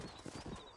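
Horse hooves clip-clop in Red Dead Redemption, a quick run of soft, repeated hoofbeats heard at close range over a dusty western town backdrop.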